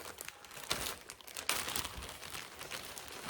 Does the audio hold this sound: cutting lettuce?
yes